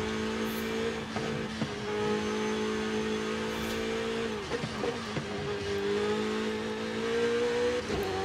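A race car engine in Forza Horizon 5 on a demanding track, droning and revving with steady harmonic tones that rise and dip through gear changes, loud and continuous.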